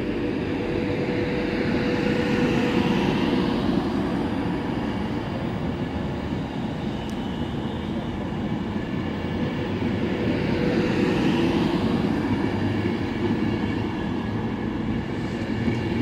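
Class 390 Virgin Trains passenger unit 390050 departs Birmingham International on the West Coast Main Line on the 1322 service to Liverpool Lime Street, a steady loud rumble and whine of the train pulling away continuing throughout, with no talk.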